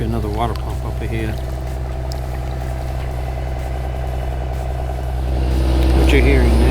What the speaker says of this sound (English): What you're hearing now is water pumps pumping water off this creek